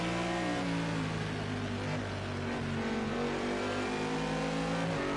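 A GT3 race car engine roars close and steady in a racing video game during an hour-long league race at the Nürburgring, its pitch rising and falling as it pulls through the corners, with no talking.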